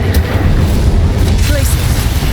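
The Incendio fire spell erupts in Hogwarts Legacy as a loud, dense burst of roaring, crackling flame noise that fills the whole moment without a break.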